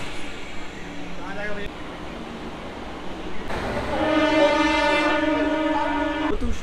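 A passenger train departs from a station on the Howrah to Biharinath route at early morning, a rumbling hum rising as a loud, sustained tonal horn or whistle sounds in the second half, close by.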